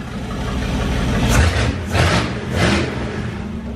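A 1970 Plymouth Duster pro-street engine, a barn-find Mopar rebuild, revs up loud and close in three quick throttle blips over a steady rumbling idle.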